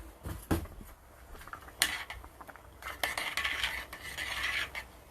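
A metal spoon and cookware are handled while wild pheasant back mushrooms cook, giving scattered close clinks, scrapes and knocks over a quiet background.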